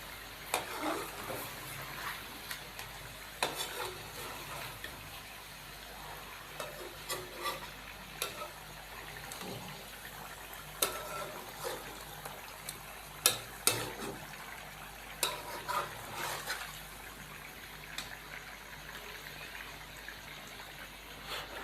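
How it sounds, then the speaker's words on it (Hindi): Chicken with ginger garlic paste fries quietly in a karahi, with a soft steady sizzle and intermittent scrapes and clinks of a spoon stirring against the pan. "और अब हम इसको मज़ीद 2 से 3 मिनट तक भून लेंगे ताकि इसकी अदरक लहसुन के पेस्ट के साथ अच्छे तरीके से चिकन की भुनाई हो जाए।"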